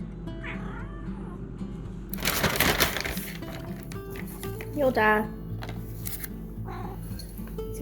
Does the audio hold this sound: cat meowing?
yes